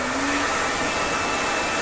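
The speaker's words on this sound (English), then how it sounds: "you can use the back of a hair dryer, which cools it off quicker" A hair dryer blowing steadily and close, a continuous loud airy whoosh with a faint motor whine that holds steady throughout.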